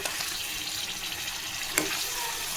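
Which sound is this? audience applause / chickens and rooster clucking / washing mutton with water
washing mutton with water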